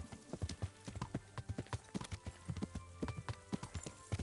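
Horse hooves clip-clop at a brisk, steady trot in the video game Kingdom Come Deliverance. The clear rhythmic footfalls sound close and carry on with no gaps.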